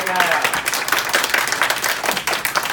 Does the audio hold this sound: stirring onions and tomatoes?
no